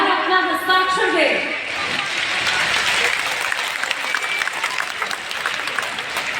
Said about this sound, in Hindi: तालियां इतनी जोरदार हो कि इस मैदान के बाहर भी आवाज जाए।